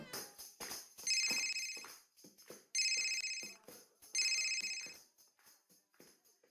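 A phone ringtone plays in bursts, three bright, sharp ringing phrases separated by shorter melodic beeps, fairly close and clear with no talk over it.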